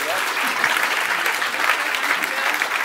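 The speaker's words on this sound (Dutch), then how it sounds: "Geef ze een warm applaus" An audience at a municipal election debate in Amsterdam applauds warmly, a dense, steady wash of clapping from many hands throughout.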